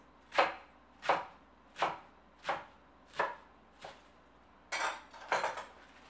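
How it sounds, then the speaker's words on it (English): A knife slices vegetables on a cutting board for Korean spicy beef soup (yukgaejang), cutting quarter- to half-inch slices: seven crisp, close chops at a steady rhythm, the last few coming quicker and closer together, with no talking. "slice this into 1/4-inch, 1/2-inch, so you have something like this"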